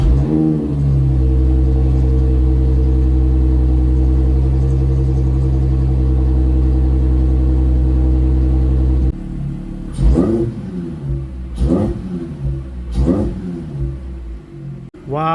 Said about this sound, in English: Let's get a little cold start for you.